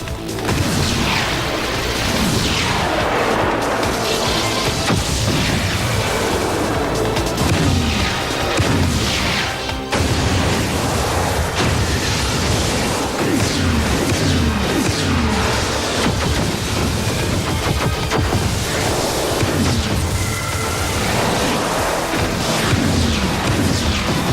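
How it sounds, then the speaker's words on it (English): Cartoon energy weapon blasts hit spider crabs in a dense barrage of booms, crashes and bursts, loud and continuous with overlapping impacts and explosions throughout. "He's shooting at the spider crabs."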